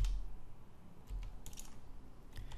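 Keys clatter on a computer keyboard in quick, uneven bursts of close clicks, with no talk over them.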